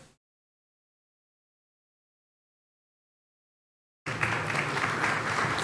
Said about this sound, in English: Yeah, it deserves a clap.